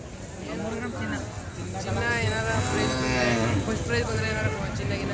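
Cattle at a cattle fair low repeatedly in drawn-out moos, several animals near and overlapping, with a busy crowd murmur and people talking throughout.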